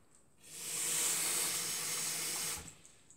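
Tap water runs steadily into a dog's water bowl, a loud, even hiss that starts abruptly, holds for about two seconds and cuts off sharply, with quiet room sound before and after.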